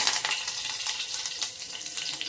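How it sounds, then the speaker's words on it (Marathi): Fenugreek seeds, cumin and curry leaves crackle and sizzle steadily in hot oil for tempering a spiced buttermilk kadhi, a dense continuous frying hiss with small popping bursts, close and fairly loud with no voices. "मेथी टाकली, जिरं टाकलंय"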